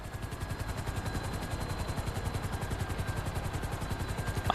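Rapid, steady automatic gunfire from a helicopter in Grand Theft Auto 5, a continuous mechanical rattle blended with rotor thrum, heard close and constant with no talking.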